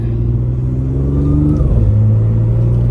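From inside the cabin, a stage 2+ tuned B8.5 Audi S5 pulls hard under acceleration, its engine note rising loud and steady, then shifting and climbing again.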